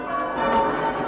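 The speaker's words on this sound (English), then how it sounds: "Ringing a bell by yourself is quite different to ringing with" A church bell rung by hand by a bell ringer, its sustained metallic tone ringing steadily and fairly close throughout, with no voices.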